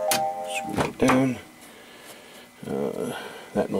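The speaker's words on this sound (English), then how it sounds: "That noise is my phone." A phone gives a short chiming notification, a brief tonal ding at the start, followed by someone speaking and faint handling noises during a cassette player repair.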